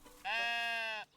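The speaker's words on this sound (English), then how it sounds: "Look at this sheep. This sheep has decided it lives here now." A sheep in the video game Tiny Glade gives one sustained, clear bleat of about a second, close and alone against a quiet background.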